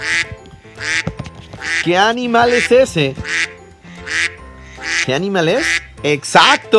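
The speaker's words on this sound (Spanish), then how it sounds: "¡Eso es un pato!" Ducks quacking in a children's video, with flying ducks, heard in repeated bursts among lively voices that keep talking over and between the calls.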